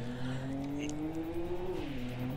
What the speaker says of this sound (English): This is Gold Digger driving a pink Skyline.